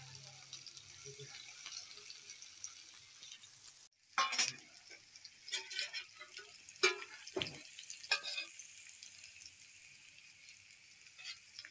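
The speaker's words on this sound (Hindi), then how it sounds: "हमने अच्छी तरह से इनको ब्राउन करना है ताकि ये अच्छी तरह पक जाए।" Pieces of beef tikka boti brown in a pan with a soft, faint sizzle, then louder scattered scraping, stirring clatter and bursts of spitting fat after a sharp jolt, with no talking.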